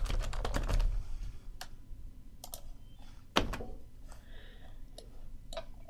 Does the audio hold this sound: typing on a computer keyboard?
yes